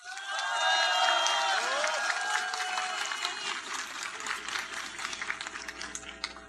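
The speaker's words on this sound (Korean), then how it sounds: "따뜻한 박수 부탁드립니다." A large crowd applauds and cheers warmly at a Democratic Party candidacy speech, a dense, steady roar of clapping that starts loud and stays sustained, with scattered shouts and a faint tonal layer running through it.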